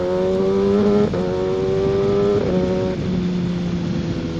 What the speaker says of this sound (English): But this exhaust is nasty.